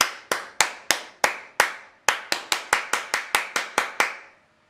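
A single pair of hands claps about fifteen times into a microphone, close and crisp, the sharp slaps coming unevenly at first and then faster and steadier before stopping.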